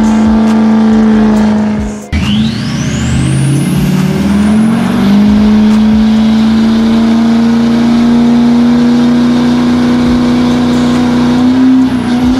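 Isuzu D-Max pickup holding a loud, sustained burnout, its engine revving hard and steady at high pitch after a brief dip, with a rising whine and tyre roar close by for over ten seconds.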